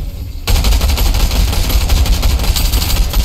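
Rapid automatic gunfire in Fortnite erupts suddenly after a short quiet moment and keeps hammering without pause, loud and close, a dense stream of shots.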